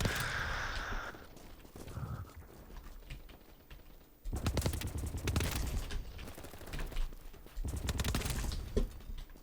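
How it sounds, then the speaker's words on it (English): Bursts of rapid gunfire in the video game BattleBit crackle in several loud volleys separated by quieter stretches, sounding like a busy firefight at mid distance. "I hear a lot of gunfire"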